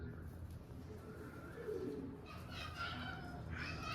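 Pigeons coo softly in a loft of pure peacock-type birds, low murmuring calls rising and falling at close range over a steady background hum, with faint voices nearby.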